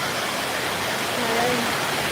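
A short stretch of heavy, unbroken rain hiss, with a faint voice just audible beneath the wash.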